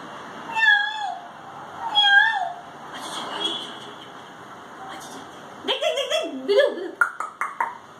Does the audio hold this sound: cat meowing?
yes